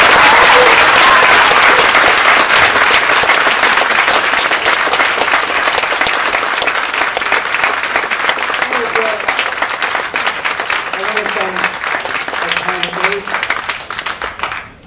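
Audience applause at a US Congressional District 5 candidate forum, a dense sustained wash of clapping that stays loud before gradually thinning and fading near the end, with a few voices audible underneath.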